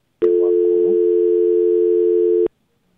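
After a dropped phone call, a loud, steady telephone tone sounds alone, holding one unbroken pitch for just over two seconds before cutting off abruptly into silence.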